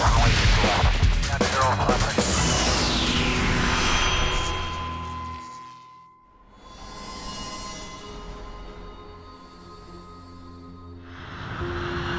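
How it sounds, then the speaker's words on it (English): UPS cargo airplane climbing at dawn over Kentucky: a loud, rising engine roar with a sweeping whine and rumble that fades away, then softer drones swell and fall in the distance. "It's an early summer morning when UPS Flight 1354 climbs over Kentucky."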